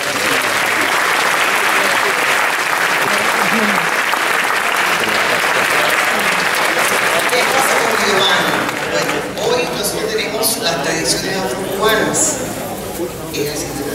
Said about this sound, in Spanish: que pide un fuerte aplauso